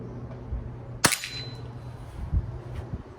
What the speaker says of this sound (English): it's just a matter of aim and take the safety off and pull the trigger.